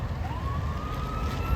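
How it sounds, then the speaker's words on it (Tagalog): A fire truck siren wails in a single slowly rising tone over heavy low rumble and street noise in Calgary, at the scene of a burning car. "Oh, here's the fire truck."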